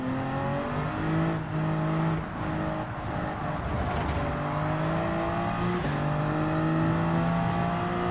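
A Peugeot RCZ Group 3 race car in Gran Turismo 7 runs on the Grand Valley Highway 1 circuit during a Nations Cup race, its engine droning loud and steady with rising and falling pitch as it shifts through gears, no talk.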